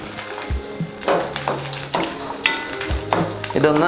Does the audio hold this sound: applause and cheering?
no